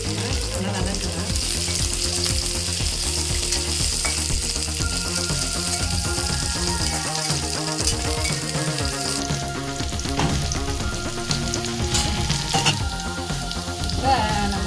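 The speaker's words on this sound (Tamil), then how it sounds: "இஞ்சியும் ஒரு துண்டுதான் இதுவும் நல்லா ஃப்ரை பண்ணிக்கலாம். நல்லா வதக்கலாம்." Onion and ginger frying in a pan for Kerala-style fish curry, a loud, steady close sizzle with occasional stirring scrapes, and no talk.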